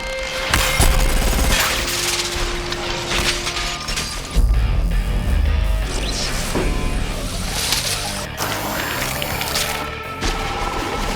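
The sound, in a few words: glass exploding and shattering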